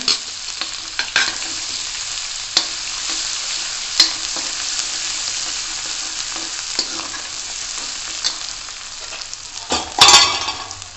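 Ginger garlic paste frying in a pan for green chickpea kadhi, with a continuous close sizzle, occasional stirring scrapes and a louder burst near the end, no talk.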